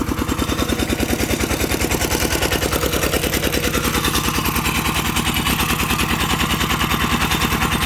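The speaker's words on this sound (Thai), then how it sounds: "เร่งเครื่องนี้ไม่ไม่มีหนักเลยนะครับ" A small single-cylinder winch engine, an older worn unit, chugs in a fast, steady, loud thumping rhythm close by, running alone without talk.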